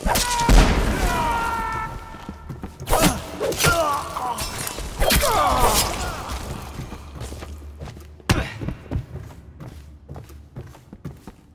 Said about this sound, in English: Away from the explosion!